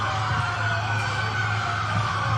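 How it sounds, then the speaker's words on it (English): A continuous loud blare of bullhorn sirens and shrill protest whistles drones steadily from a crowd of protesters at a distance, without a break. "drowned out by a throng of protesters outside blasting whistles and bullhorn sirens"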